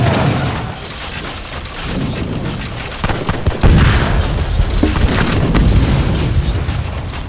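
Explosions in the video game Age of Empires III, heavy rumbling blasts over a dense roar of debris and noise that swells and stays loud throughout.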